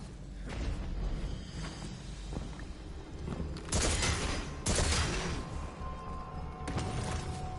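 A supercharged cannon fires in the sci-fi shooter Destiny: Edge of Fate, heavy booming blasts with bright crackling bursts at intervals over a mechanical rumbling background, loud and without speech.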